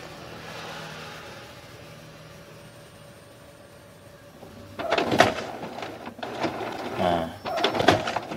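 An inkjet printer runs a nozzle check, quiet at first, then loud mechanical whirring and clattering bursts as the carriage and feed rollers move, under intermittent talk.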